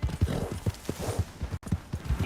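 Horse hooves in the video game Red Dead Redemption 2, a close, rhythmic clip-clop of a horse moving at a steady gait, with a brief break partway through.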